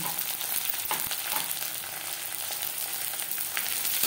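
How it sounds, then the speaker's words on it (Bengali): Garlic fries with browned chopped onions in hot oil in a pan, a continuous dense sizzle with a few faint stirring clicks and no voices. "এক দু মিনিট পেঁয়াজের সাথে রসুন ভেজে নেওয়ার পর"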